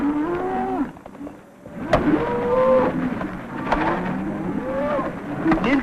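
Cattle lowing in a small canyon on a ranch, several drawn-out moos rising and falling in turn, fairly close and clear with no talk over them.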